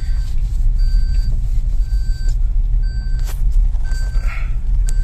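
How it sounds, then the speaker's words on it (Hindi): In a new car, a seat belt warning chime repeats in short, evenly spaced beeps over the low rumble of the moving vehicle. "ये नया गाड़ी में यही सब दिक्कत है, सेफ्टी बेल्ट का अलार्म बजते रहते।"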